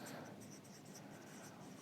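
A pen writes fresh on paper during an RCC design class on shear reinforcement, making soft continuous scratchy strokes, faint and close, with no talking.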